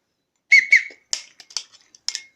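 A survival whistle from a bug-out bag gives a few short, sharp blasts: two stronger toots first, then several lighter chirps, close and clear against silence.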